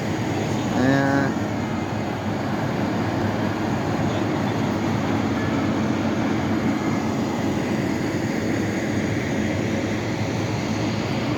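The Park MGM tram in Las Vegas approaches as a steady, broad rumble and whir that holds for several seconds, fairly loud and continuous, with a brief tonal squeal near the start.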